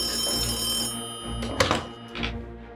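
An old-style telephone bell rings in two bursts, followed by a handset being picked up with a soft thunk.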